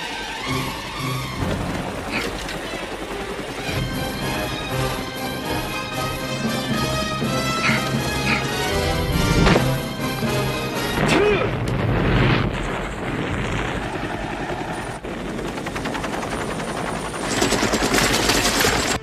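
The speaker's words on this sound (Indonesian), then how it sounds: "langsung menjatuhkan sebuah bom yang membuat seluruh curug tersebut menjadi kobaran api" Loud, dense action sounds of a bomb explosion and helicopter gunfire roar continuously, with booming blasts and crackling bursts layered over a constant rumble as flames engulf a waterfall.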